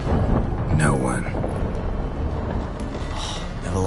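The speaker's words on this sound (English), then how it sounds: "Didn't bargain for no storm." A thunderstorm at sea rolls through The Witcher 3, with dense rumbling thunder and rain wash filling the scene while a voice speaks over it.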